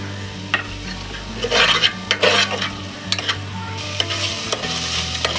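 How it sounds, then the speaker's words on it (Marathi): Ginger-garlic-chilli paste with turmeric sautéing in hot oil for Kolhapuri misal, a bright sizzle with a spoon scraping and clinking around the pan, loud and close, without any voices. "हे मिश्रण प्रॉपर परतून घ्यायचं आहे तेलामध्ये।"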